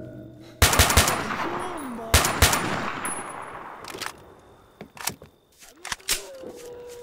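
Gunfire in STALKER: Shadow of Chernobyl, a sharp burst of automatic rifle shots followed by scattered single cracks and clanks over a quiet outdoor background, some near and some farther off.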